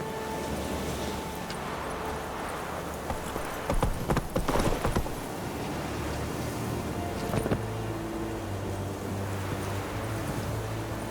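Roach, Geralt's horse in The Witcher 3, galloping with steady rhythmic hoof clip-clop throughout, with louder bursts of hoofbeats and ambient game sound underneath.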